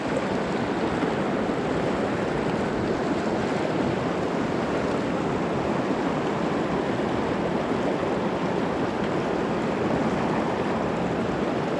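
River water flows steadily around someone wading across a mountain stream on the Middle Fork Blacks Fork trail, a constant, fairly close rushing wash with no pauses and no voices.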